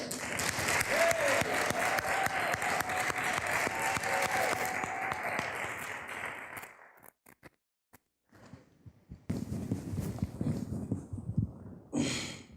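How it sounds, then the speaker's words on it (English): Applause from a crowd fills the first half, then fades into quiet, followed by a few voices and shuffling noise. "Let's all give a round of applause for Virgil Miller."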